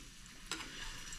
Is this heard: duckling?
no